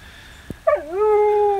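A puppy gives a single rising-then-falling whimpering yip close by outside, following a faint thump.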